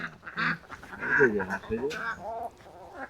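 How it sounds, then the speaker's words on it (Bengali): Ducks quack in short, nasal bursts close by in a village in Netrokona, Bangladesh, mixed with people talking over them throughout. "হাঁসের আওয়াজ নাকি?"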